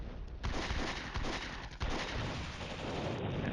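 Artillery and mortar fire in the Cold War wargame Flashpoint Campaigns: Cold War comes as a dense, loud rumble of blasts. Sharp impacts punctuate a steady roar of explosions, and no one speaks over it.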